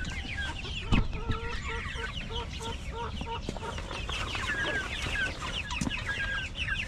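Backyard chickens cluck steadily in a run of short, repeated calls, with a few brighter squawks mixed in, all close by against a soft outdoor background.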